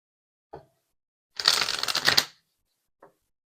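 Tarot message cards being shuffled: a short riffling burst of about a second, bracketed by two soft single card taps, close and quiet with no talking.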